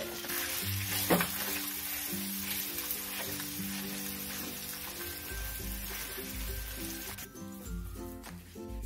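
Mashed green pea paste frying with ginger and green chili in a pan for koraishutir kochuri, a steady low sizzle with occasional stirring clinks and scrapes.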